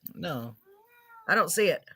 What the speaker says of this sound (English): your cat is upset about that